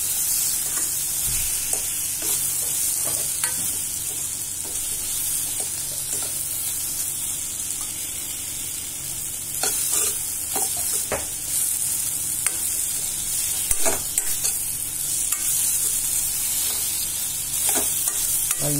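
Vegetables for a paneer capsicum gravy sauté in a pan with a constant sizzle. A spoon stirs and scrapes repeatedly against the pan, with sharp clicks scattered throughout. No one speaks.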